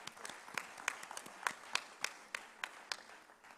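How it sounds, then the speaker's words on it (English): Scattered applause from a gathering at a national policy dialogue on drug susceptibility testing, a modest crowd clapping in uneven, fairly soft bursts with distinct individual claps. "May I request our August gathering to give a big round of applause for ma'am."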